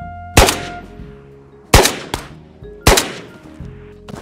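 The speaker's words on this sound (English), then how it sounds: "Oh, that scav's aiming at me down there. I don't think he can shoot. Oh, he's shooting." Three loud gunshots from a scav enemy in a VR shooter, spaced over a few seconds, each a sharp crack with a short ringing tail and no talk.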